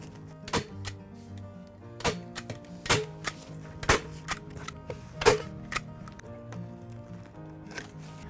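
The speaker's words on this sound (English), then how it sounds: "I'm going to staple that to the bottom edge of this pallet planter" A staple gun fires repeatedly, fastening landscape fabric to the bottom edge of a wooden pallet planter: about ten sharp, close snaps arrive at irregular intervals over a faint background hum, with no talking.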